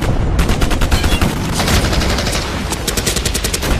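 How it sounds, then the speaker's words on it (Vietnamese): Rapid bursts of gunfire in a Vietnamese war action film crackle in dense volleys, loud and sharp, overlapping like a battle scene with no speech. "Súng của địch quá mạnh."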